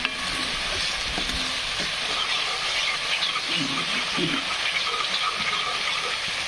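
Masala frying in a pan for a spicy mutton rassa, stirred slowly: a steady close sizzle and crackle runs throughout, with soft scraping stir strokes underneath and no talk.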